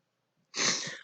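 A single sharp sneeze bursts out close by after a moment of near silence.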